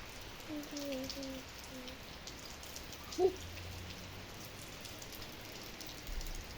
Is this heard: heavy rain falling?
yes